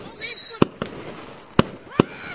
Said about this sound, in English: I didn't know they had fireworks in beach now